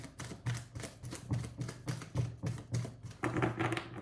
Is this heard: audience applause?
no